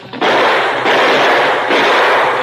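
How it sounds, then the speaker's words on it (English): Staged gunfire in a Western radio drama, a bandit emptying his gun while running: three loud, harsh blasts in quick succession, each a broad burst that blends into the next. "Pancho emptied his gun at the masked figure racing after him"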